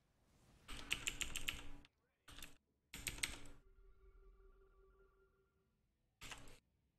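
Bursts of clattery computer keyboard typing during a StarCraft II game, close and fairly faint, with pauses between the runs of keystrokes and a faint tone in one gap.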